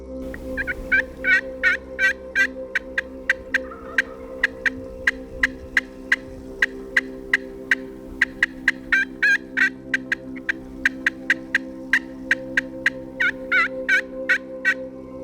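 Wild turkey toms gobble repeatedly on a Utah mountainside, loud and close, the rapid rattling calls bursting out over and over for the whole span, some overlapping, above a steady low hum.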